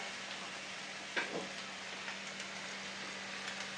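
Chicken with mushrooms sizzling steadily in a frying pan, a soft continuous fry with a couple of faint scraping stirs, no talk.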